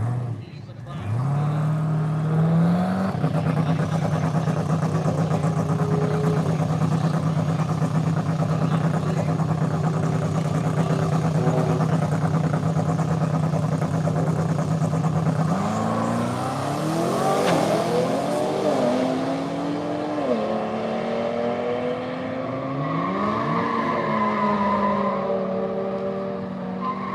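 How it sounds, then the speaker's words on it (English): A Chevy Traverse engine revving loudly and steadily while staging in the left lane at a street racing takeover, the pitch climbing and falling with tire squeal toward the end amid crowd noise. "That's a Chevy Traverse, ladies and gentlemen. Staging in the left lane right now."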